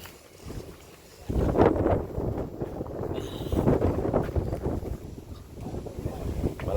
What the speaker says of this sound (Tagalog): Malakas ang hangin ngayon kasi may bagyo daw.